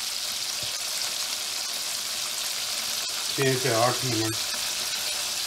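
Chicken strips for a spicy fried chicken dish fry in hot oil over medium heat. The sizzle is loud, steady and close, and a voice speaks briefly partway through.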